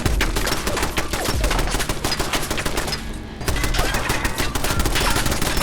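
Rapid bursts of turret gunfire in Fallout 4, loud and close, with dense rattling volleys that pause briefly before resuming.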